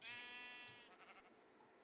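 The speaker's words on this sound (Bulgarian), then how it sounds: "Черни овци." Sheep in the Minecraft video game bleat in a few short, reedy calls, fairly clear and alone with no talk.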